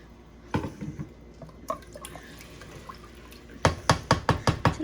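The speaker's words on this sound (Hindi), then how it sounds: "अब हम इसमें डाल देंगे पानी" Water is poured into a pot of potato chicken curry, first a few soft splashes and gurgles, then a run of sharp, loud splashing bursts close by.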